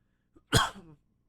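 A single sharp sneeze, close and loud, with a faint intake of breath just before and a quick trailing exhale, no talk.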